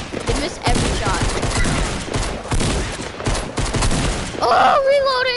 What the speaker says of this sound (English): These guys are trying to shoot me. They miss every shot.